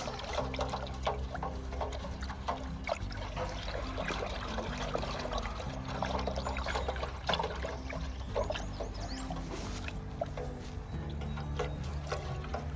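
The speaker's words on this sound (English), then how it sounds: "Water on the pumpkin all around." Water poured from a gallon container around a newly planted giant pumpkin, a steady trickling splash that runs continuously at moderate, close level with no talk.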